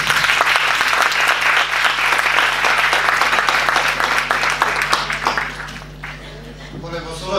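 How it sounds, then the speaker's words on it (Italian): Seminar audience at a university event breaking into loud, sustained applause, dense clapping holding steady before thinning out near the end. "l'applauso bello, forte e meritato"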